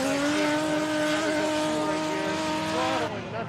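A 2JZ-powered Toyota JZX100 Chaser drift car screams at high revs at a Formula Drift Japan qualifying run at Ebisu, engine tone wavering under throttle with tire squeal layered on, loud and continuous before easing slightly at the end.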